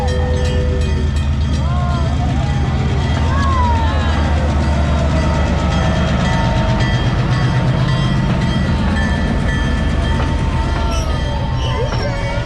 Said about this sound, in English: Look at this train, guys.